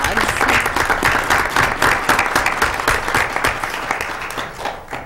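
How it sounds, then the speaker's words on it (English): Loud, close applause at a school district board of education meeting, honoring the hound dogs with dense rapid clapping that holds steady and tapers slightly at the end. "one more round of applause here for our amazing hound dogs"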